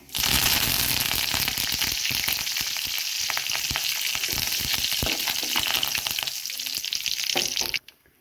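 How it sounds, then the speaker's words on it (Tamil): Four dried red chilies and curry leaves frying in hot oil for sorakkai kulambu, a loud, dense crackling sizzle that runs steadily for several seconds, then cuts off abruptly near the end. "ஒரு 4 வரமிளகாய் சேர்த்துக்கோங்க. கொஞ்சம் கருவேப்பிலை ஆட் பண்ணிக்கலாம்."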